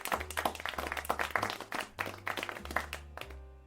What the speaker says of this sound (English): Maiko, thank you for the clap.